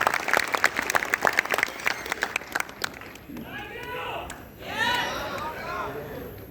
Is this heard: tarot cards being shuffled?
no